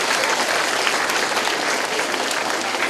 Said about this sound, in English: Would you give her a special round of applause, Mrs. Hicks?